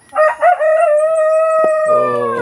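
A Black Australorp chicken in a backyard free-range flock calls loudly and close by, starting with two short notes and moving into a long, drawn-out crowing cry.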